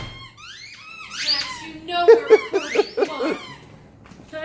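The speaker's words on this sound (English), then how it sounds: "Now he wants to play squeaky toy." A dog plays with a squeaky toy indoors, squeezing out a quick run of sharp, high squeaks close by. A person speaks softly in the background.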